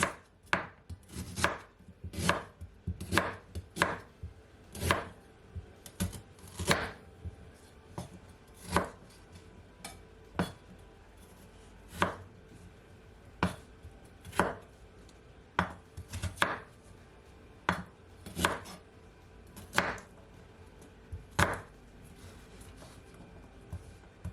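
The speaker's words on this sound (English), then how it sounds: "I'm not gonna remove the peel from my ginger because you don't have to. So I'm just gonna cut them up small." A knife chops unpeeled ginger into small pieces on a board for a carrot, celery and peach juice, giving about twenty sharp, distinct knocks at an uneven but steady pace, close and clear with no talking.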